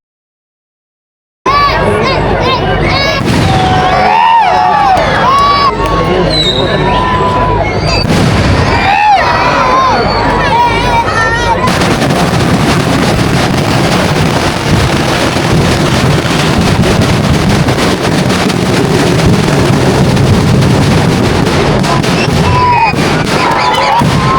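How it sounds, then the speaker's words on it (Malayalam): Fireworks at a temple festival thunder through a long continuous barrage of booms and crackles, loud and dense, with wind buffeting the microphone and crowd voices faintly underneath. "ഞങ്ങൾ എല്ലാവരും ഇതാ വെടിക്കെട്ട് കാണാൻ വേണ്ടിയിട്ട് ഇവിടെ ഇങ്ങനെ അക്ഷമരായിട്ട് വെയിറ്റ് ചെയ്തുകൊണ്ടിരിക്കുകയാണ്."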